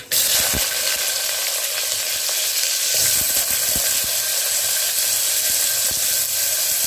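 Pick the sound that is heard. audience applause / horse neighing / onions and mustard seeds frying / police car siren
onions and mustard seeds frying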